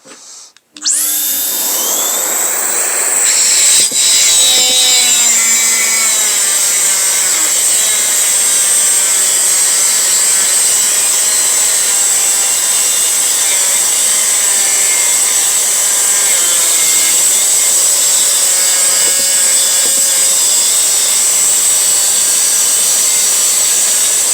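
A cordless mini angle grinder fitted with a 76 mm Distar cutting disc spins up after a brief click and then cuts with a loud, continuous high-pitched whine whose pitch wavers slightly as it bites, and it runs on without pause.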